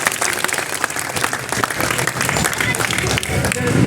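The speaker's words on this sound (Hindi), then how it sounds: "जोरदार इनके लिए एक बार तालियां बजाओ" Loud, sustained applause from a large crowd at a political rally in Narwana, continuous clapping filling the air throughout with a dense wash of hands.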